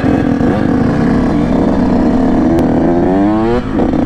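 A motorcycle engine runs loud and close after being warmed up, idling with a rough chug and then revving up and back down in a rising and falling sweep.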